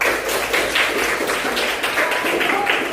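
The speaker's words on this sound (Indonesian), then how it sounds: "tepuk tangan untuk kelompok 2" Students in an Indonesian language classroom clap for a group after its presentation, a quick, uneven pattering of hands heard close by, with a teacher's voice partly over it.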